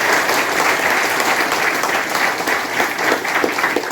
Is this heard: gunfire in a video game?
no